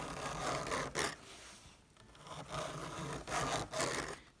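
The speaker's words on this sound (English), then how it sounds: "make sure whenever you're filing, you don't want the file to slip up and over" A hand file rasps across the teeth of a chainsaw chain still on the bar, in rhythmic back-and-forth strokes with short pauses between them, close and moderately quiet.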